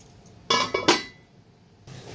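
A metal lid comes off a cooking pot of potato and pointed gourd curry, giving three quick close clinks and clatters, then quiet kitchen background.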